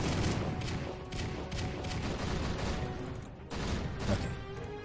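Dense, continuous rapid gunfire and explosions from the video game Strike Force Heroes 3, loud and unbroken across the clip with no voices.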